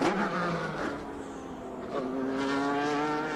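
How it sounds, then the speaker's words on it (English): A race car at the 1993 IMSA Toyota Grand Prix of Atlanta brakes hard and downshifts, its engine note dropping in steps with blips between gears, loud and continuous from an onboard position. "Heavy braking and downshifting."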